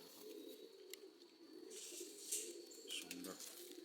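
Madrasi pigeons give low, continuous cooing close by, with scattered faint chirps and light clicks and a brief rustle near the end.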